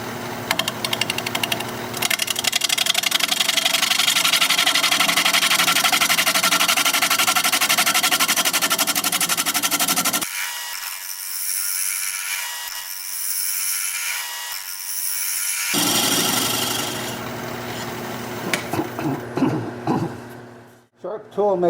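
A woodturning tool being sharpened on a powered grinder, a loud continuous grinding whine that cuts out abruptly midway, resumes, then winds down into clattering handling noises.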